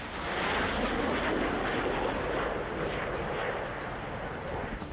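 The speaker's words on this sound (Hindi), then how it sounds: "फाइटर जेट उड़ाना" A military fighter jet on an exercise near Taiwan roars overhead in a steady, loud, broadband rush that stays dense and unbroken throughout.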